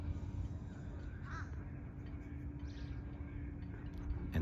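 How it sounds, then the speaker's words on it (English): Crows raising and teaching their young to fly let out a couple of faint, distant caws over a steady low rumble of outdoor background noise. "the crows are raising their babies"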